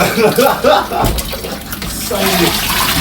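Tank water gushing from a tap, a steady splashing flow with a voice talking over it.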